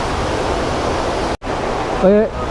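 Steady rushing water noise of the Kuthunkal waterfall in Idukki fills the clip, broad and continuous, briefly cut by a short gap, with a brief tonal sound near the end.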